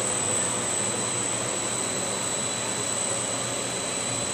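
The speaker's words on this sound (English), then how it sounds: "I'm going to switch off A1 compressor so that A2 will come on." A 2004 Carrier Aquasnap 35-ton air-cooled chiller runs its compressor with a loud, steady roar and whine, constant and unbroken, with no voices.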